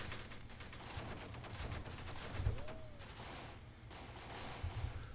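Gunfire crackles in Graviteam Tactics during a Battle of Cuito Cuanavale engagement, a busy run of shots and bursts with a few heavier thumps, moderately loud and continuous, with no voices over it.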